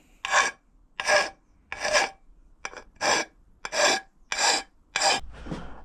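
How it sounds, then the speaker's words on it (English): Eight rhythmic strokes of a sharp blade scraping a surface on a bobber motorcycle project, each a short, close, rasping pass separated by brief pauses. "get a sharp blade and scrape the surface"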